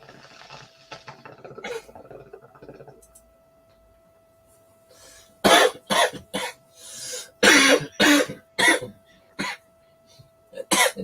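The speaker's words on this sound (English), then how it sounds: "You turn the camera off and then cough." A person coughs in a series of sharp, close bursts, several in quick succession, after a stretch of faint rubbing and quiet room noise.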